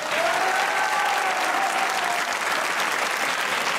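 A studio audience on a comedy talk show breaks into steady, dense applause that holds evenly throughout, with a brief whistle-like tone early on.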